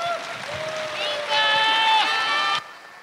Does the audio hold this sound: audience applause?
yes